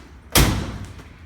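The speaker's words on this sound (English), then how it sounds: "Door shut excellent." A door on a Hemi Coronet slams shut once, a solid close thud that decays quickly, heard alone with no talk.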